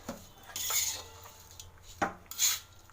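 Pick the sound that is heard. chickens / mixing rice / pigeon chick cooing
mixing rice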